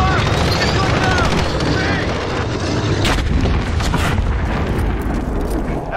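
Dense, continuous gunfire and explosions in Call of Duty Modern Warfare, loud and relentless with booming blasts layered over rapid shots, with game voice chatter mixed in.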